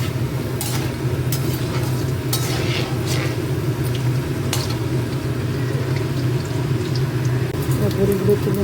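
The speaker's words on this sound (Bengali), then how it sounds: "বড়িগুলো ভেজে নিচ্ছি" Lentil dumplings (bori) frying in oil in a pan give a steady, close sizzle throughout, with light clinks and stirring sounds on top.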